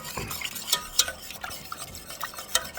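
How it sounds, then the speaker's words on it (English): A utensil stirs Alfredo sauce thickened with mascarpone in a pot, giving soft swishes and scattered sharp clinks against the metal, close and unhurried with no voices. "I'm going to stir it often."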